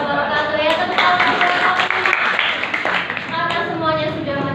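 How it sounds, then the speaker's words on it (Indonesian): Classroom audience claps after student presentations, a dense patter of many hands under overlapping voices and chatter, continuing throughout. "Ya, tepuk tangan."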